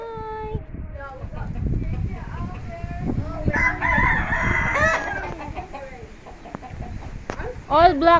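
A black rooster crows on a farm, its drawn-out cock-a-doodle-doo rising clearly over background clucking and talk, with a second loud crow near the end.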